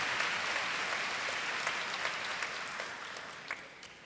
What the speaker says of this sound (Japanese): 皆さん大きな拍手で